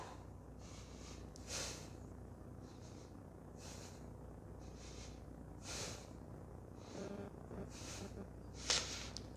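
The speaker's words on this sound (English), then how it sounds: "Five breaths here." Soft, slow breathing through a held yoga pose, steady inhales and exhales heard close and faint against a low background hum, with no talking.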